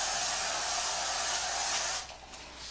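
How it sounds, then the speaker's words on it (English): A steady hiss of aerosol cooking spray onto a baking pan runs for about two seconds, then cuts off, followed by a brief clunk at the end. "I'm gonna start spraying my pan"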